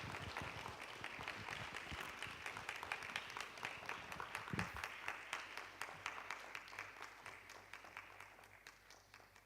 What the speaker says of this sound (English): I think we can give him a round of applause, even as we welcome him to the stage